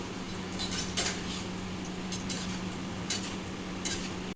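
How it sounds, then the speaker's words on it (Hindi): Mathri dough pieces deep-frying in hot oil give a steady, close bubbling sizzle, with faint clinks of a utensil now and then. "मैं मटरी को डीप फ्राई कर रही हूँ"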